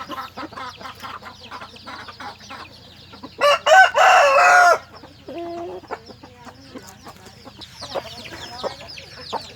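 Hens cluck softly and intermittently on a Thai village farm, then an eight-month-old rooster lets out one loud crow close by before the quieter clucking resumes.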